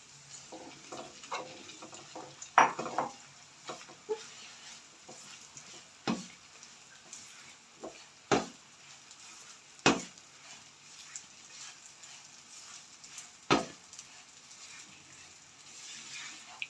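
Poppy seeds (khaskhas) frying in desi ghee give a faint, steady sizzle, broken by a few sharp scraping clicks of stirring spaced several seconds apart.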